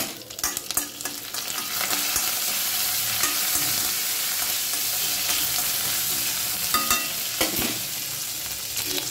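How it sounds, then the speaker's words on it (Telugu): Dried red chillies and asafoetida frying in hot oil, a loud, steady sizzle with stirring throughout and no voices. "కొంచెం ఎండిమిర్చి ఫ్రై అవ్వాలి"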